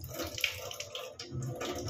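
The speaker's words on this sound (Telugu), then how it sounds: "కుక్కర్లో కదా వాటర్ వేసి వెంబడి రైస్ వేసేద్దాం" Water poured into a pressure cooker ahead of the rice, a soft, close splashing and trickling stream that keeps going for a couple of seconds.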